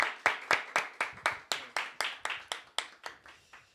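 A small group claps at an academic awards event, about fifteen sharp, evenly spaced hand claps that are fairly faint and fade slightly toward the end, with no voices.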